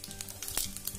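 Mustard and cumin seeds crackle and sizzle in hot oil for a masala brinjal curry, a short close burst of spitting and popping with one sharper crackle near the middle.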